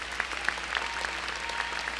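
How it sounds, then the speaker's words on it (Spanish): A church congregation applauds steadily together, a dense, even patter of many hands clapping at moderate loudness with no voices over it. "Vamos a dar un aplauso a los hermanos que están pasando."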